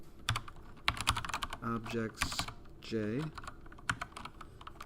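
Quick bursts of keyboard typing, close and crisp, with a person speaking in between the keystrokes.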